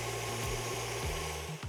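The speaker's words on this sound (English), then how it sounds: "Begin whisking your egg whites and then slowly add in the remainder of your sugar." Electric mixer whisking egg whites while sugar is gradually added, a steady motor whine with a low droning hum that dips and shifts in pitch every half second or so, close and alone without voices.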